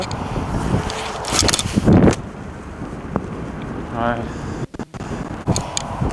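Strong wind on a golf course buffets the microphone in loud, uneven gusts that rise and fall close by, with a person talking through it.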